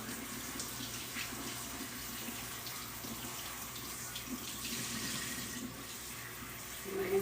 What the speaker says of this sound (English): I feel like it needs another good rinse.